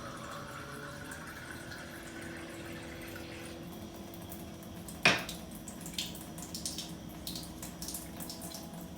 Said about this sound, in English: I'm going to run some water in the glass.